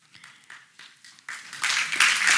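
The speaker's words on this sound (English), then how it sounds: "I hope you're clapping yourselves." A lecture audience claps in scattered, uneven bursts that grow from a few hands into louder, fuller applause.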